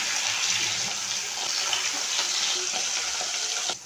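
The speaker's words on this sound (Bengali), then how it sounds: "মাছগুলি লাল করে ভাজা হয়ে গেছে" Khoira fish frying in mustard oil, a dense, continuous sizzle and crackle close by with faint utensil knocks underneath, no voices.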